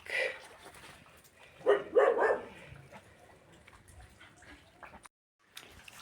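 Dogs bark outdoors on a rainy day: a short cluster of barks at moderate distance midway through, over low background noise with a faint voice.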